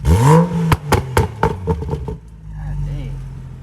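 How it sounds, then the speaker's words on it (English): A BMW 435i with an N55 engine, catless downpipe and stage 2 tune revs up in a short rising burst, then settles into a low idle rumble, with people talking over it. "Give us another rev one more time."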